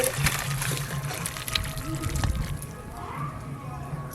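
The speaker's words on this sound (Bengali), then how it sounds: "সজনে ডাঁটা সেদ্ধ হয়ে গেছে, তার সাথে আলুও খুব ভালো করে সেদ্ধ হয়ে গেছে। এবার ঢেলে নেব" Boiled drumsticks and potatoes are poured from a pot, a steady close splashing and trickling of water that runs for several seconds.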